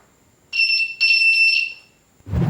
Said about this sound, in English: The right answer, it beeps.